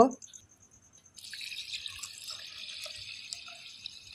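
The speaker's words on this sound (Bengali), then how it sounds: "পরিমাণ মতো জল দিয়ে দেব" Water is poured into a clay pot holding Gobindobhog rice, mung lentils and potatoes, a soft steady trickling stream after a brief knock and a short pause.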